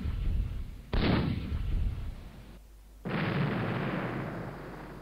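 Artillery salvos in the wargame Battleground: Antietam, with two loud broadband booms that each roll into a long rumbling decay, the second one sustained to the end.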